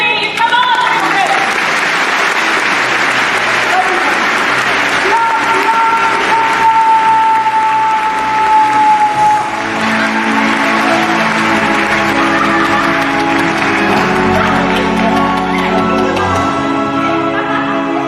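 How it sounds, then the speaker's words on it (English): Audience applause fills the stretch, a steady wash of many hands clapping, loud and continuous, with music and voices mixed underneath. "You believe? Clap your hands!"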